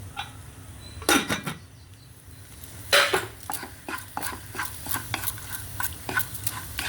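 Chopped green chillies go into vegetables frying in a pan, with sharp scraping stirs and utensil clacks in irregular bursts over a low background sizzle, close and fairly loud, no talking.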